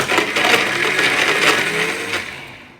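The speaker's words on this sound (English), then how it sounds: "Now we're going to blend everything together." A blender whirs loudly and steadily, crushing fruit with 150 grams of ice, its motor roar rattling and grinding with the ice before it winds down at the end, with no talking over it.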